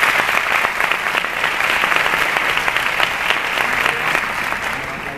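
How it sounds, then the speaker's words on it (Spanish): A graduating class of second-year bachillerato students receives sustained, close applause from the audience at a school graduation ceremony, with rapid individual claps standing out over the roar. "Por favor, un aplauso para ellos."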